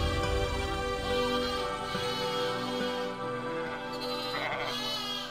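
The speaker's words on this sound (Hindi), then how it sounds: "ये अचानक भेड़े इतनी बेचैन कैसे हुई?" Restless sheep bleat repeatedly, several overlapping calls close by and fairly loud against a steady tonal backdrop, with no talking.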